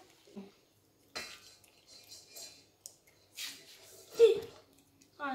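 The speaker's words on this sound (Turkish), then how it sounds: "Dahan erimiş yağı ve pudra şekerini aletin kabına dökeceksin" Melted butter and powdered sugar tipped into a mixer bowl while making Turkish kedi dili biscuits, giving soft clattering and knocking against the bowl in a few short bursts, with brief talk between them.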